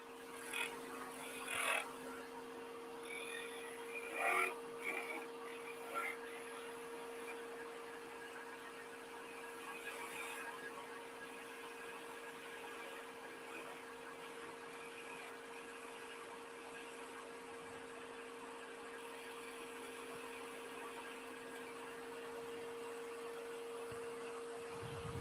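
Wood lathe spinning at 2400 RPM in a woodturning shop, a steady faint hum with fixed tones holding throughout, a few brief knocks and clicks early on, no talking.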